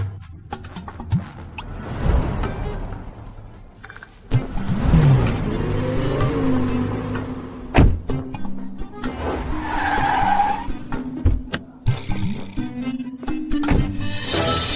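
A limited-edition Lamborghini pulls up with squealing tires and skidding, close and loud. Engine noise and sharp intermittent screeches rise and fall over about fifteen seconds.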